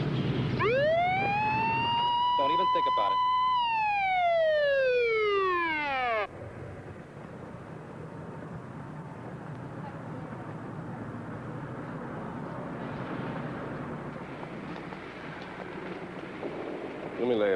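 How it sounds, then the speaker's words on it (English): A loud police siren wails in rising and falling sweeps for several seconds, then cuts off abruptly, leaving low background rumble and a brief spoken line. "Get ready to turn on the siren."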